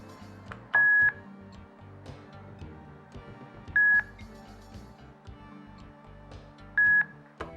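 Three short electronic row-scanning beeps from a GoTalk Express 32 communication device sound at steady intervals of about three seconds, each clear and tonal over a low background hum of machinery.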